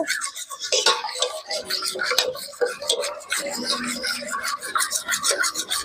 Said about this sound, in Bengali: এই আমের মাড়ির সঙ্গে চিনি আর লবণটাকে ভালো করে মিশিয়ে একদম গলিয়ে নেব।